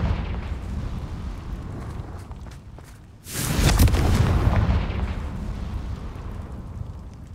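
A Confringo fire spell in Hogwarts Legacy erupts in a loud booming explosion midway, after a steady low background hum, and a long rumbling roar trails off behind it.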